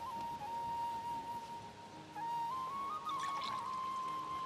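Water is poured for drinking in one continuous stream into a vessel, its ringing tone steady and slowly rising in pitch as the vessel fills, close and fairly quiet.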